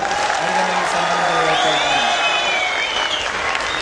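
A crowd at a Buddhist conference in Mysore claps loudly and continuously, with some whoops and cheers rising over the applause, and a voice carrying through the noise.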